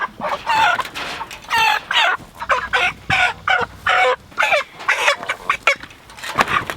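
Cornish cross chickens cluck in a busy close group, with repeated short bursts of clucking and squawks in quick uneven rhythm, fairly loud and near, with no talking.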